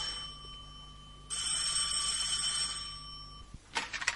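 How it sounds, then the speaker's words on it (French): A telephone rings in a radio drama sound effect, a steady trilling bell that sounds loudly for about two seconds before cutting off, followed by a short clatter as the receiver is picked up. "Une nuit, le téléphone se met à sonner."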